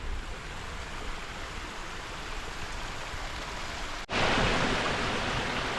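A waterfall in Snowdonia runs full with heavy flow, giving a steady rushing roar that jumps noticeably louder and brighter after a brief cut near the end, with no voices.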